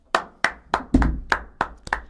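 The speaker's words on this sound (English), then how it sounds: "Can I get a clap?" A small group in a podcast study room claps for a birthday, eight sharp, close claps in a loose, slightly uneven rhythm, with a brief murmur of voices under one of them.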